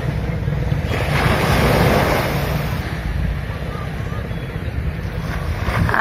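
Tide waves roll onto Madhavpur beach in a continuous loud wash of surf, mixed with heavy wind buffeting close to the listener.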